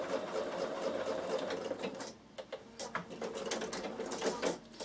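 A Bernina sewing machine stitching a summer peak cap, with rapid, steady mechanical whirring in short bursts and a brief pause between runs, close and moderately loud, and faint birdsong in the background.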